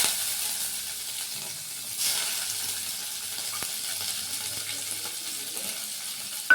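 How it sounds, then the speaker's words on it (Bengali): Garlic and prawns fry in hot oil in a home kitchen pan, producing a continuous moderate sizzle with occasional stirring scrapes and a few faint clicks. "আমি এবারে রসুন আর চিংড়ি মাছগুলো দিয়ে দিচ্ছি।"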